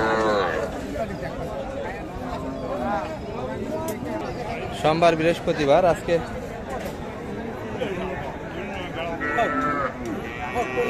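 Small red Sahiwal bulls and heifer calves low amid the busy chatter of Raniganj cattle market in Ghoraghat, Dinajpur, with a few moos rising over the crowd while someone talks close by throughout.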